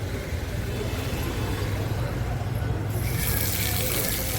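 A public drinking-water tap running at the Godavari Ramkund riverside, a steady gushing hiss of flowing water that brightens partway through, with people talking and traffic in the background.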